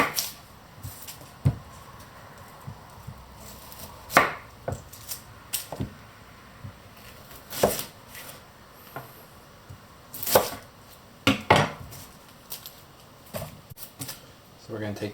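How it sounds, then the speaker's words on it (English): A knife quarters shallots on a cutting board, with a dozen or so sharp, uneven chops and taps spaced irregularly, fairly close, and quiet gaps between the cuts. "Same with the shallots, we're just going to quarter them."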